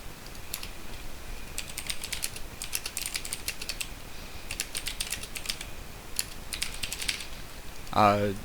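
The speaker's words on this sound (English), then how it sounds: "I start pre-typing some text." Quick bursts of keyboard typing, key clicks in irregular clusters with short pauses, over a low background hum; a brief clunk at the end.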